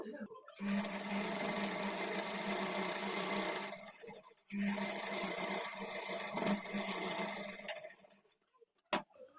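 Sewing machine stitching the side slit of a kurti in two long steady bursts of rapid rattling, with a short pause between them, close and loud.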